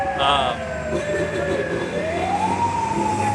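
An ambulance siren wails steadily on a Mogadishu street, its pitch sliding down and rising again over heavy traffic rumble.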